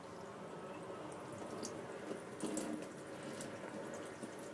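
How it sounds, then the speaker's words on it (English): Tap water runs into a sink and flushes through a hose, a soft continuous splashing and trickle that stays faint and steady throughout, with no talking. "I also pop this in the sink and give it another shot of water"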